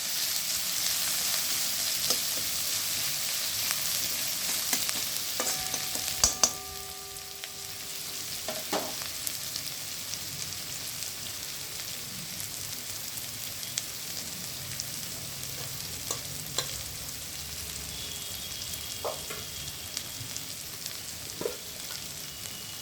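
Onion and garlic frying in a pan, a continuous soft sizzle with occasional clinks and scrapes of a utensil, close but quiet, a louder stir near the start, no voices.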